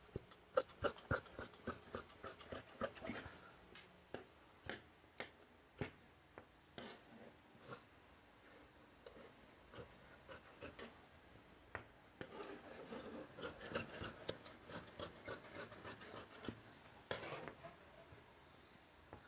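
Scissors snip through kameez sleeve fabric in a long run of quick, quiet crisp cuts close by, bunching into denser clusters toward the end.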